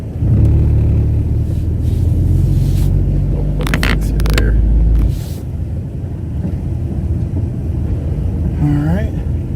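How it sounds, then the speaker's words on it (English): A 1995 Nissan Altima with 417,000 miles pulls out and drives away, its loud, steady low engine rumble filling the first half before easing into a softer, continuous drone as it moves off. "pulling out, driving away."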